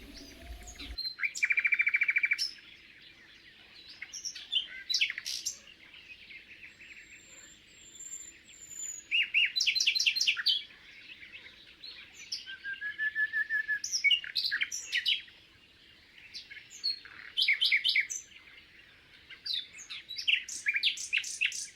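Nightingales sing in separate bursts of varied, bright chirps and trills with quiet gaps between them, set against faint, steady insect-like ambience.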